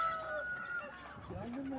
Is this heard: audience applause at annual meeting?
no